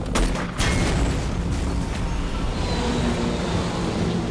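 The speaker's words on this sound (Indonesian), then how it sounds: "Kemudian dia menembaki tabung itu hingga meledak dan membakar helikopter." Film explosion from Shooter as a tank is shot and blows up, setting a helicopter ablaze: a dense, sustained roaring rumble with several sharp cracks near the start, loud and broadband throughout with no speech.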